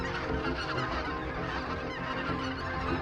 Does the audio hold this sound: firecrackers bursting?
no